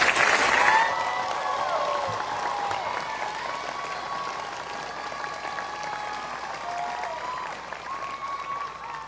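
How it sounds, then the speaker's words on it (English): A commencement audience gives graduating candidates a long round of applause, a broad steady clapping crowd heard at a distance in a large hall, with faint whoops and cheers rising over it early on before settling into an even wash. "Audience, please join me in another round of applause to applaud all of these candidates for their academic accomplishments."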